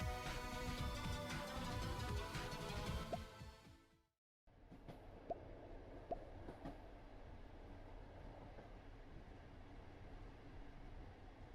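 Train pulling into a station in the horror video game Depersonalization: a steady rumbling roll with tonal hum, then a sudden cut to near silence, followed by quieter rail noise punctuated by a few sharp clanks.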